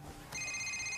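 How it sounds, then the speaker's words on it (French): A telephone rings in a French comedy film scene, its bright electronic ring cutting in about a third of the way through and holding steady and close after faint low room sound. "Laissez sonner."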